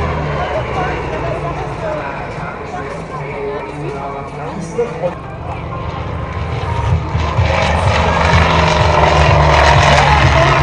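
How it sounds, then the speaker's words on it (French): A CAP 231 aerobatic propeller plane takes off at an air show, its engine a loud continuous drone that swells near the end, with crowd noise around it. "le cap 231UX au décollage"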